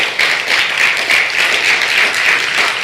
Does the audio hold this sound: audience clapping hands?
yes